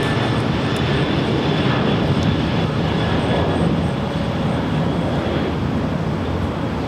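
A Boeing 747-400 freighter departs Los Angeles International Airport, its engines a loud, steady broadband roar that holds nearly constant for several seconds, with a faint high whine above it.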